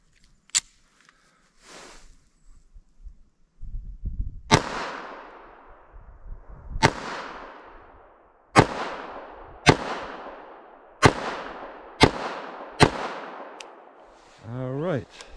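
Sharp, loud gunshots from an S&W Shield EZ 2.0 .380 ACP pistol crack out at a range, with about seven reports spaced roughly one to two seconds apart, each one ringing briefly. A few quiet bumps come earlier.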